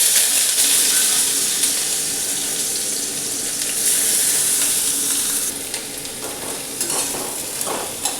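Onions fry in hot oil in a pan for a chickpea and potato curry: a loud, dense, close sizzle throughout, with brief crackles and stirring scrapes toward the end.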